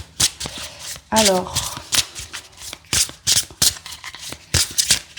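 Playing cards being shuffled, a tarot-style deck handled for a reading, giving repeated crisp riffling bursts and slaps close to the mic, with a brief spoken word near the start.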